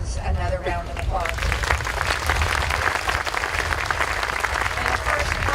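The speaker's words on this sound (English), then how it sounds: "Please join me in giving our World War II veterans another round of applause." A crowd at a Memorial Day observance in Walnut Creek applauds World War II veterans, sustained, dense clapping filling the whole stretch, loud and steady, with a brief voice at the start.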